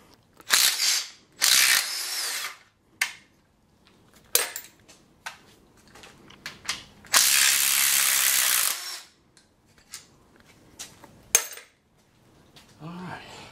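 Ratchet wrench work on bolts during an LS engine swap into a BMW, with bursts of clicking ratcheting, metallic clanks and a longer loud rasp, up close and irregular, with no talking.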